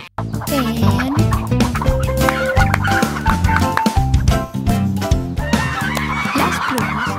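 Goose honks sound repeatedly within a lively Spanish-language children's nursery song about farm fowl, recurring in rhythm over a busy, loud musical backing.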